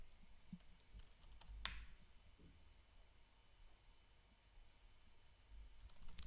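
Computer keyboard keys tapped in short, quiet bursts with scattered clicks and one sharper key strike, close by in a quiet room while passwords are entered.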